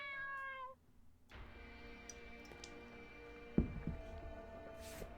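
Cat meowing in the RPG Maker horror game The Hollow King, a short run of game-audio meows near the start before a layered ambient music bed takes over with a sharp hit midway.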